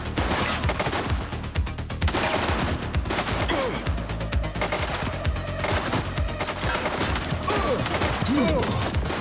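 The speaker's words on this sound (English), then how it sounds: "He's shooting!" Sustained gunfire from a shooting suspect in the police game The Precinct, with dense bursts of automatic fire and scattered single shots crackling steadily over the whole stretch, loud and close, with a busy game soundscape underneath.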